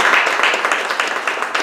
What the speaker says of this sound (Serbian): Ja vas molim jedan aplauz podrške ovako.